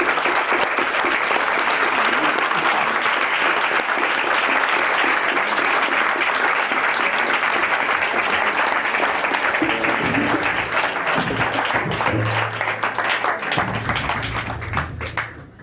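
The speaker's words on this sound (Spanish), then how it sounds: "Ya hemos festejado con el aplauso la llegada del doctor Tomada" Sustained, dense audience applause at a debate panel of the Fundación Alfredo L. Palacios, welcoming Doctor Tomada; steady clapping fills the whole stretch, thinning slightly near the end with faint low murmurs underneath.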